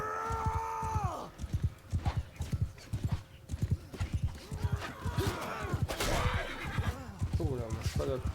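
A horse whinnies loudly near the start in Mount and Blade 2 Bannerlord, over a steady, rhythmic clip-clop of hooves that continues throughout, with further faint neighs and battle noise later.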